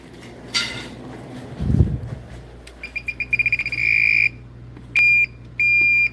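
A Klein or Ideal breaker finder tester gives a rapid run of short beeps, then a longer tone and two more sustained beeps, clear and close over a faint hum, after some handling noise.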